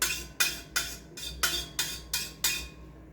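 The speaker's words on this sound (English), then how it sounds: "a spoon is normally used to scrap them, and the sound is produced." A metal spoon scrapes cooked ugali crust off a pan, giving seven bright, rasping strokes in a steady rhythm, each one loud and close with a sharp onset and a fading tail, over a faint low hum and no talking.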